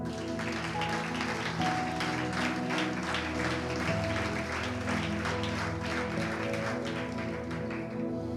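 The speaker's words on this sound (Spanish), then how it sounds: "dale un aplauso a tu rey" A church congregation claps in steady, dense applause throughout, heard under a sustained musical drone with several held tones.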